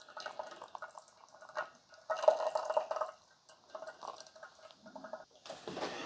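Water pours from a COSORI gooseneck electric kettle in short, faint trickling bursts that splash into a cup, stopping and starting with brief pauses between pours.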